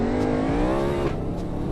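A car in a Roblox game drives over loose domino pieces, giving a steady, close engine whir with a slight pitch dip; no distinct clatter of pieces stands out.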